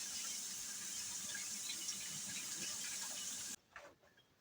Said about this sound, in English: Always wash the hands after your chicken. With soap, not just water.